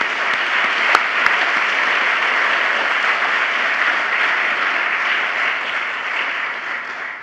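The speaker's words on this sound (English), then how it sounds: "Please give yourselves another round of applause." Youth participants at a national youth forum clap for themselves, a dense and even roar of applause that stays loud and continuous throughout, with a couple of sharp individual claps near the start, then eases slightly at the end.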